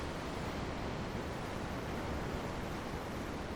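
A ship at sea in Tales of Arise, with steady ocean waves in a soft, even hiss of surf that stays constant and fairly faint throughout, without voices.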